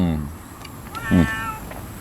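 A cat gives a single clear, drawn-out meow, close and fairly loud over a low background hum, with a brief softer sound just before it.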